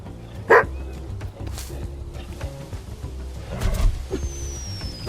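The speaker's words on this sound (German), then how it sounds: "Wo ist der Hund?" A dog in the Squirreled Away video game gives a short, sharp bark early on, followed by faint yips and whimpers over quiet game ambience and soft background effects.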